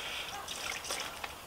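Water trickles and splashes as a wheel rim is rinsed during cleaning, a brief soft hiss of running liquid with light gurgles.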